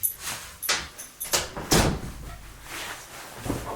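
A house door is opened to let pets in, heard as a series of close thuds and rattling knocks with a louder bang near the middle, then quieter shuffling and bumps, and no talking.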